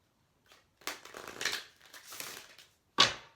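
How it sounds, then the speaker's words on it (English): A deck of cards is shuffled by hand in a few close, crisp riffling bursts separated by short pauses, ending with a sharp snap. "The only prep you have to do is to shuffle the cards."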